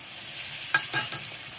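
Ground garlic paste drops into hot oil in a home cauliflower dish, giving a soft steady sizzle with a few brief crackling bursts near the middle, faint and without talk.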